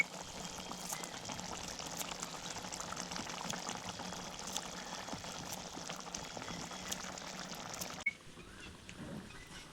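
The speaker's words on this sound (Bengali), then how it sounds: "এই দেখুন ফুটে উঠেছে, এবার ধনে পাতা দিয়ে নামিয়ে নেব।" A pot of Bengali charapona fish curry (chorchori) bubbles steadily on the stove, a dense, continuous simmering hiss and gurgle that drops abruptly near the end, with no talk.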